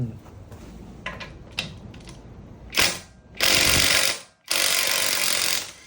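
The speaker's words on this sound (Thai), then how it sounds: "นี่คือบอกระแทกไร้สายของเท็กซัสบู" A TEXUS BULL cordless impact wrench rated at 550 Nm hammers in a few short blips, then two long, loud bursts of rapid rattling impacts with a brief pause between them, close by and without talk.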